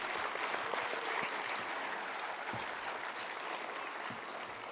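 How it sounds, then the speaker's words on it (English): A school annual day audience claps for the students in a large hall, a steady wash of many hands applauding without pause, moderately distant and even throughout with no voices on top. "Let's hear it for all the students."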